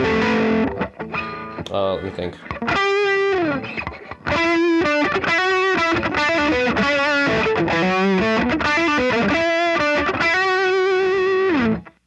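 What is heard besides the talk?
electric guitar through Effects Bakery Bagel overdrive and distortion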